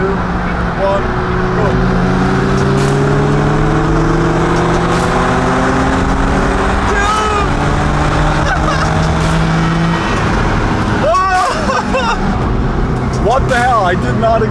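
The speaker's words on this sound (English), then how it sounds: "we're gonna do a little third gear pull to see how the RX-7 stacks up" Turbocharged Mazda RX-7 FC3S accelerating hard in third gear alongside another car, loud sustained engine roar with climbing pitch sweeps and gear-change dips, a sharp burst near the end, with people talking over it.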